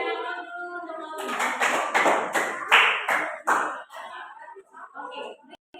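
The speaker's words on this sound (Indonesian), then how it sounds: "Berikan aplaus dulu untuk Novi." A classroom group claps for a student after her presentation during a university practical exam, with a short burst of brisk hand-clapping that builds and then fades to a few scattered claps.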